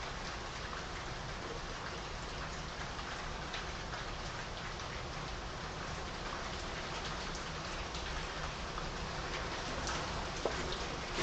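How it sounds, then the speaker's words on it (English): A heavy rainstorm pours steadily outdoors in Cincinnati, a dense continuous hiss of falling rain that swells slightly toward the end, heard alone without talk. "there's a good rainstorm going on here in Cincinnati"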